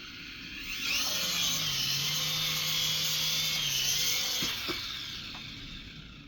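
A Syma S54H RC helicopter spins up and takes off, its small motor and rotors producing a close, high whirring whine that rises, holds steady, then winds down.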